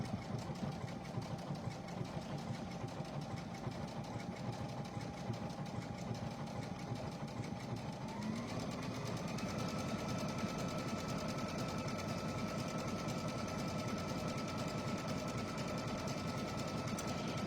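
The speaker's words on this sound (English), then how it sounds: "I'm gonna drop my needle to double check, and then I'm gonna go ahead and start stitching." Domestic sewing machine stitching fabric, a steady close mechanical whir with rapid even needle rhythm that speeds up and rises in pitch partway through, with no talk.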